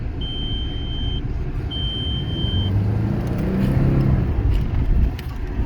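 A 2000 Volkswagen Jetta on a test drive, its engine and road noise a steady, fairly loud drone that swells slightly midway, with two long electronic beeps near the start.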